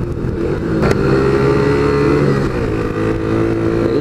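A motorcycle or car engine revs and builds speed on the ride home from work, a loud, steady drone with rising harmonics throughout and no talking.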